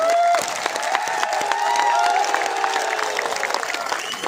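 Applause from a gathering of Rajasthan ministerial employees at Jaipur's Shahid Smarak, dense clapping with some cheering mixed in, a voice speaking over it at first before the clapping carries on and thins toward the end.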